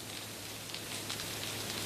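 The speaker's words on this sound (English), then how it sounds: "It's actual feces from the caterpillars dropping on to the soil." Gypsy moth caterpillar droppings pattering onto soil, a dense, steady, rain-like hiss of tiny impacts, soft and continuous with no voices.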